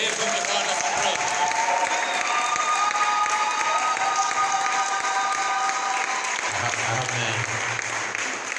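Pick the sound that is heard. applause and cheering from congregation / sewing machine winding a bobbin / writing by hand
applause and cheering from congregation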